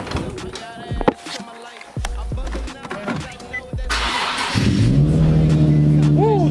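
A tuned race car's engine cranks over in short bursts, then catches and rises into a loud, climbing rev near the end, with mechanical clunks beforehand.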